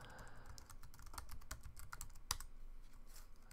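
Rapid clicking of keys on a computer keyboard while a web address is entered into a site-blocking app, a close, steady run of keystrokes with one sharper tap near the end and no voices.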